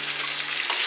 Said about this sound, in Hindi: ये मेरे पास तकरीबन 3 पाव गच्छे का कीमा है। ये मैं ऑयल में फ़ौरन शामिल कर दूंगी।